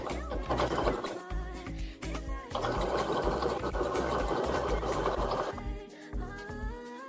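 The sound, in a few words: sewing machine sewing bows with a straight stitch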